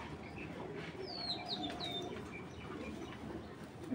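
Club racing pigeons give faint chirps and a low, soft murmur of cooing in a quiet loft, with a brief rustle of wings; calls are scattered and distant-sounding.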